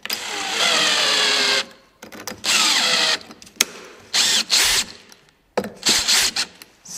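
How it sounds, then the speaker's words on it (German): Power drill driving screws to fasten parts of a homemade bandsaw's table, heard as several loud, close whirring bursts of one to two seconds, separated by pauses with clunks and handling noise. "Dann schrauben wir das mal fest."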